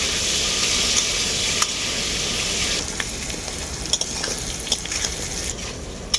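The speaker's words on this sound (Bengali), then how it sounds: "আলুর সাথে কুমড়োগুলোকেও আমি অল্প করে ভেজে নেব" Potatoes and pumpkin sizzle steadily in a frying pan for a Bengali fish-roe dish, with a dense high crackle that eases a little midway, punctuated by a few sharp scrapes and clinks of a stirring utensil.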